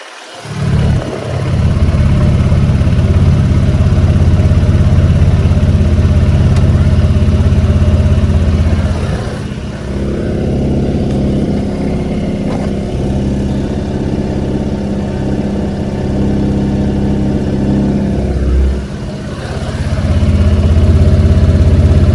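A 2022 Honda Forza 125 scooter engine idles just after starting, a loud, steady near mechanical hum with a low throb that dips slightly midway and then picks back up.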